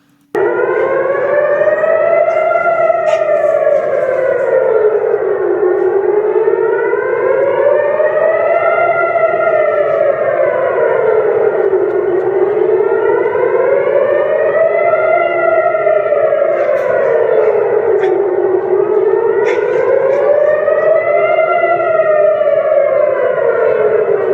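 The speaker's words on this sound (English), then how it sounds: "you can hear those loud sirens there" Civil defense air raid sirens wail loudly, their pitch rising and falling in long repeated cycles that overlap for over twenty seconds, with no talking.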